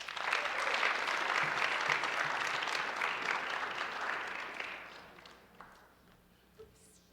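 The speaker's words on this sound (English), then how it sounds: "please give her a round of applause" A high school Writers Week audience claps steadily for several seconds, the applause then thinning and fading away into near quiet.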